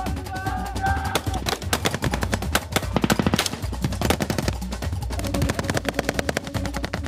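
Rapid bursts of blank gunfire crackle during a military display at Trooping the Colour, loud sharp volleys and machine-gun rattles in quick succession, echoing outdoors.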